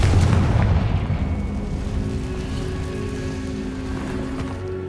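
A Confringo fire spell explodes in the Hogwarts Legacy video game, a deep booming blast at the start that trails off into a long crackling, rumbling wash.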